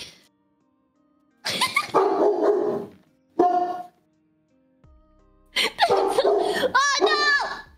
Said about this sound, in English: do you hear my dog barking?